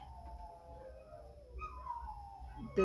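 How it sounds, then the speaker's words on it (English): Dogs outdoors let out drawn-out howls with whimpering rises, heard from a distance at low level against a quiet background, with no barking clearly standing out. "dogs seem to want to make a lot more noise right now"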